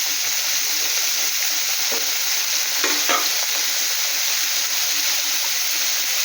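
Ginger garlic paste and chopped green chillies fry in a pan with a steady, even hiss, broken by a few brief clinks and scrapes of stirring.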